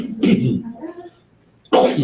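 A single sharp sneeze bursts out in a meeting room, following a cough-like vocal sound and a brief quiet pause, with a voice close by.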